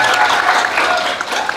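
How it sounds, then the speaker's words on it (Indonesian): A short burst of loud, dense applause from a group of people at a pharmacy teaching session, close and continuous throughout. "Selamat tepuk tangan buat kita semuanya."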